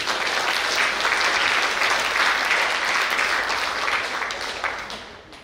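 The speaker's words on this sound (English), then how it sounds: "Let's give them another round of applause." An audience claps after a vibrant dance performance at a college seminar, a dense, sustained round of applause that fades toward the end.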